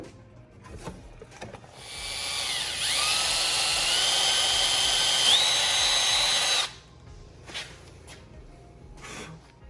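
A power drill whirs steadily for several seconds, drilling a hole through a fender liner and side splitter into a Nissan 300ZX twin turbo, pitch dipping briefly under load, amid quieter clicks and handling noises before and after.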